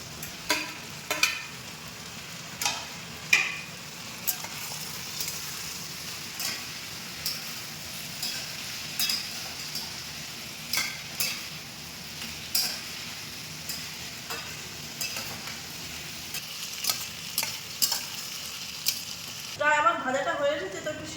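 Tomatoes frying in a pan for a tomato and bean curry, a steady sizzle under regular scraping stir strokes about once a second, close, with a brief voice near the end.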